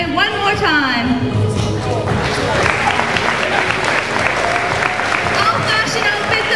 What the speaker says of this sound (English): Now let's give a round of applause to the models as they strut themselves down the runway one more time.